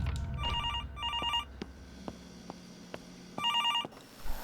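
Old telephone ringing in the horror game Infliction, two quick double rings, a pause with faint thuds, then another ring burst, electronic tone over a dark low rumble.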